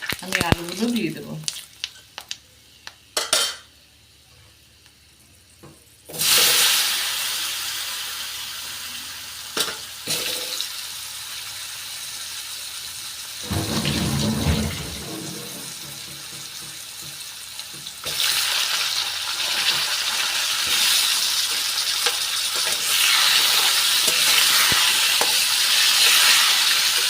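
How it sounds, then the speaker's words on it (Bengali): Potatoes fry in mustard oil with spices in a pan, a bright sizzle rising and falling as they are stirred, with running tap water and clatter earlier on and someone speaking now and then over the cooking. "আলুগুলো লাল লাল করে ভাজা হয়ে গেছে।"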